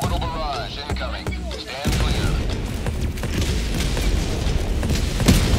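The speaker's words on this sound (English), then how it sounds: "Orbital barrage incoming" Orbital barrage explosions in Helldivers 2: a dense, continuous rumble of booms and blasts building after a brief lead-in, loud and sustained with chirpy game effects early on and voices talking over it.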